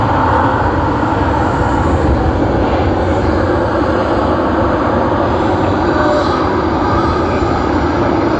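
A jet airliner takes off at Sydney Airport, its engines a loud, steady broadband roar that holds throughout without pause.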